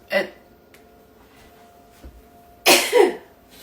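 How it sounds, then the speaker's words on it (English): Two abrupt sneezes, a short one at the start and a louder, longer burst a few seconds later, close and sharp against a quiet room. "when I take these sneezing spells, I just might as well stop a minute"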